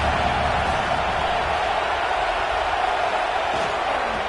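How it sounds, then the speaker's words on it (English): American football stadium crowd in an AKFL AFC Wild Card game roaring steadily on third down, a dense, loud wash of cheering voices that holds constant throughout. "Decibels rising as the crowd gets behind this defense on 3rd down"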